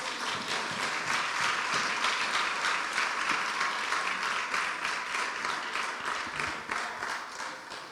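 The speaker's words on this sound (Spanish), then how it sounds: "¿Quiere dar palmas de alabanza al Señor?" A church congregation claps in praise, dense and sustained applause from many hands filling the room for several seconds before easing slightly, with no voices.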